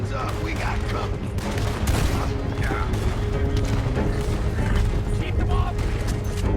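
Dense, sustained gunfire from a Red Dead Redemption 2 stagecoach robbery shootout, loud and continuous throughout with overlapping shots and impacts, while voices shout under the din.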